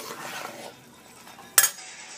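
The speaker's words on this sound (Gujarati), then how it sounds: "તો આપણે એને હવે મિક્સ કરી લઈશું." Spice masala is stirred into Gujarati undhiyu in a cooking pot, with soft scraping strokes followed by one sharp metallic clink of a spoon against the pot.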